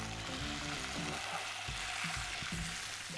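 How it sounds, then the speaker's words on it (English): Fish fries in a pan with a constant loud sizzle and crackle, and soft clunks and scrapes from turning it over, with no talk. "And finally with our fish, we can just give it a last flip."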